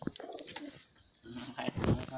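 Soft coos from village pigeons sound close by in short bursts, mixed with other faint movement and background noise.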